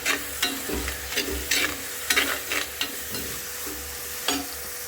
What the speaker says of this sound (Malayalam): ഇടയ്ക്ക് ആ പെരുംജീരകത്തിൻ്റെ നമ്മൾ അരിഞ്ഞു വെച്ചിട്ടുള്ള ടൊമാറ്റോ ഇതിലേക്ക് ചേർത്ത് കൊടുക്കാം